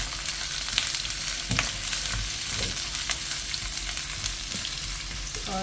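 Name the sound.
onions and pandan leaves sautéing in pan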